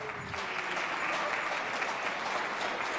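Audience applause at an award ceremony for a 10-year service award, a dense steady wash of clapping from a sizable crowd that holds at an even level throughout, with no talk over it.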